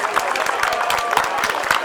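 An audience claps for marathon runners at the Skopje Marathon, close, brisk applause with scattered cheering.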